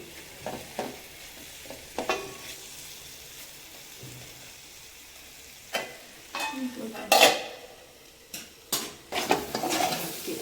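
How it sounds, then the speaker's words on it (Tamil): A ladle repeatedly stirs and scrapes potatoes frying in a pan over a low flame, with intermittent close metallic scrapes and clinks over a soft, steady sizzle and no voices. "அடிக்கடி நம்ம இதுமாரி கரண்டி வச்சு கலரி விட்டுகிட்டே இருக்கணும்"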